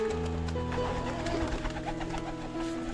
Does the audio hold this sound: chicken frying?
no